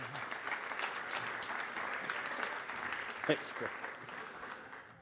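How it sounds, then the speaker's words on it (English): Audience applause for a speaker introduced as a former pro bull rider at an executive lecture, steady clapping filling the room throughout while a voice speaks briefly over it. "let's give a big round of applause to former pro bull rider and our"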